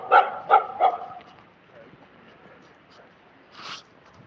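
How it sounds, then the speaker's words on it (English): A dog barks three times in quick succession, fairly close, then a quiet room tone follows with a brief faint noise near the end. "Dog is saying hello in the background."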